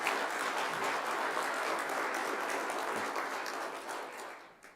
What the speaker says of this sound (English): That's known as welfare applause